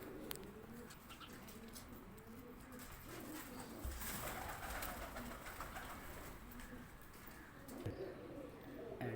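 Pigeons coo in a loft in Bhara Kahu, Islamabad, Pakistan, with repeated soft, throaty coos from several birds close by, some wing flutters and scuffling mixed in, and faint talking in the background.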